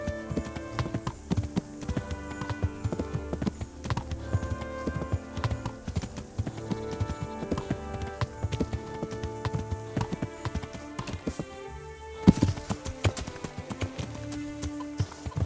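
A horse's hooves clip-clop steadily in the medieval video game Kingdom Come: Deliverance, a continuous rhythmic gait over game music and ambience that runs throughout.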